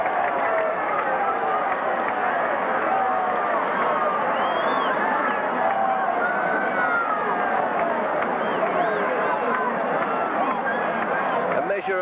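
A large football crowd at Victoria Park roars with mocking cheers after a St Kilda goal against Collingwood in a 1968 VFL match, a dense, sustained wash of voices, loud and continuous throughout.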